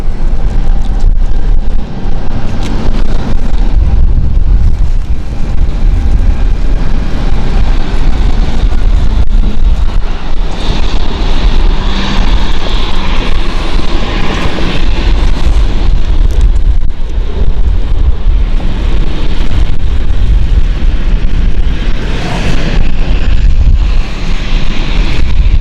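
Strong wet wind buffets the microphone at London City Airport during a rainy day as a KLM flight prepares for the runway, a loud continuous rumbling roar with gusty swells and no talking.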